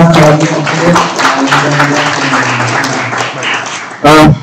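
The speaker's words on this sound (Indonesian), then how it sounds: "tepuk tangan untuk Pak Eka" Applause for Pak Eka at a curriculum workshop for an applied radiology imaging program, a few claps running under loud overlapping talk, ending with a short burst of noise near the end.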